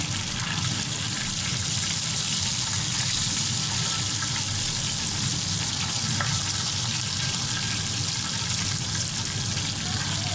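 Raw minced meat kebabs frying in hot oil, giving a dense, continuous hiss and crackle that stays loud and even throughout.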